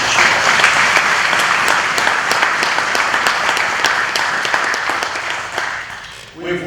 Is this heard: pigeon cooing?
no